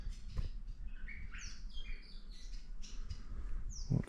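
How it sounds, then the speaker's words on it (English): Many birds chirping and squawking near a cave entrance in the bush, with overlapping short tweets and calls at moderate distance over a soft ambient background. "Lots of birds."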